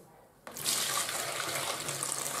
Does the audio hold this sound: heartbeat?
no